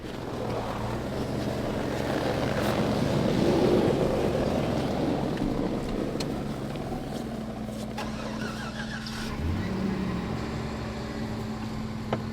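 A truck engine idles steadily with a low, droning rumble, wind noise hissing over it, and a slight shift in pitch near the end, while the truck sits in a ditch awaiting recovery.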